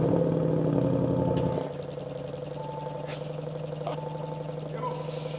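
Audi RS6 GT with a 4.0-litre V8 rated at 630 PS fires up with a loud burst, then settles into a steady, rumbling idle with faint clicks over it.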